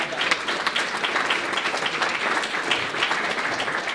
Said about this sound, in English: So give a massive round of applause again for them